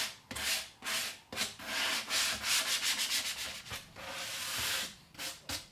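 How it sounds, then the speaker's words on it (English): Sandpaper rasping back and forth across a wooden snare cajon kit in repeated strokes, close and fairly loud, with brief pauses between bursts and no talking. "Now that we've done the hard sanding"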